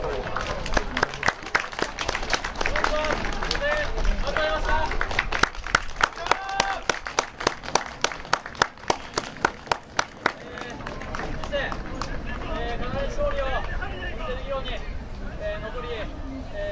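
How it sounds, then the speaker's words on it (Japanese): Big round of applause at a sports match, a loud crowd clapping in a fast, rhythmic unison beat for several seconds before dissolving into a general roar and babble of voices. "一度大きな拍手をお送りください"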